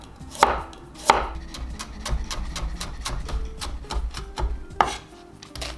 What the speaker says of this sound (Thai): หั่นแครอท